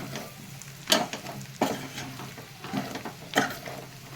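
Biryani with garam masala, coriander and mint being stirred in a pot: a few distinct scraping, sloshing strokes spaced about a second apart, close and fairly quiet, with no talk.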